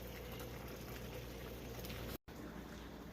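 A pot of sauce boils down in a steady, bubbling hiss, faint and continuous apart from one brief dropout.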